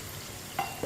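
Spinach and turnip stirred with water in a cooking pot, a faint steady simmering hiss with a brief scrape of the spoon near the end, close and quiet.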